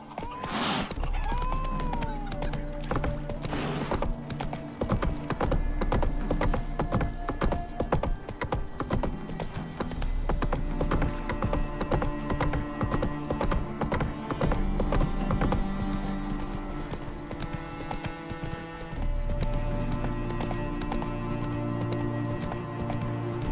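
Geralt's horse Roach gallops at length in The Witcher 3, close rhythmic hoofbeats drumming on steadily with faint clinks of tack alongside and a brief whinny near the start.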